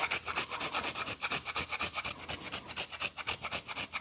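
Fresh ginger is rubbed hard against a kitchen grater with a steady, fast rasping scrape that repeats in close, even strokes and carries on alone for the whole stretch.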